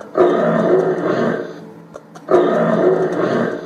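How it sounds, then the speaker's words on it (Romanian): Two deep, sustained lion roars, each lasting about a second and a half, loud and close with a short gap between them. "Toate animalele au auzit răgetele"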